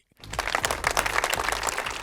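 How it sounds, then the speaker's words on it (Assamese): Audience applause welcomes a farmer guest onto the stage of an agricultural science show. It is a steady, dense wash of many hands clapping at moderate loudness that starts abruptly after a brief silence, with no talking. "হাত চাপৰি"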